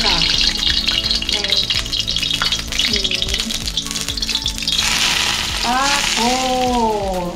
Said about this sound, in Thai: เจียวน้ำมันหอมโอเคใส่เข้าไปเลยค่ะ